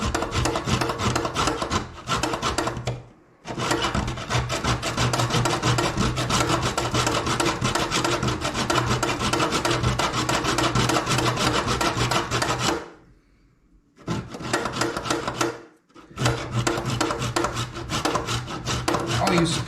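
Food is grated on a grater with fast, loud, rhythmic rasping strokes that run in long bursts. Several short pauses break up the grating.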